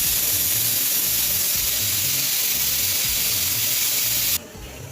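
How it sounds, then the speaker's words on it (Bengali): A pressure cooker boiling peas on a gas stove lets off a loud, continuous steam whistle that hisses steadily up close, then cuts off abruptly near the end. "একে একে 7 নম্বর সিটিটাও মেরে নিলাম।"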